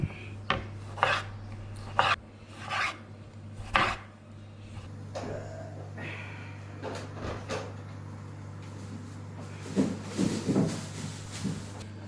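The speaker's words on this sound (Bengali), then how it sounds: "কিছু টমেটো কেটে নেব" A knife cuts through tomatoes on a board for a beef and tomato pizza, giving several crisp chopping taps followed by softer scraping and rubbing over a steady low hum, no talk.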